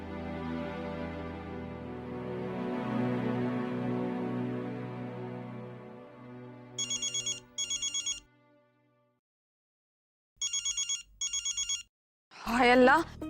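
A phone's ringback tone pulses in two short bursts, pauses, then two more during an outgoing call, following a stretch of background music and ending with a sharp exclamation.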